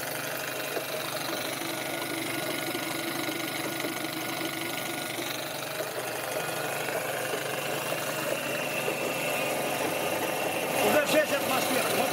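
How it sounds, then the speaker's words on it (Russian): ZIL 130 air compressor driven by a 2.2 kW electric motor runs steadily in a garage, a continuous mechanical drone and rattle that builds slightly louder toward the end, with faint talk underneath. "С 5 атмосфер компрессор уверенно запускается."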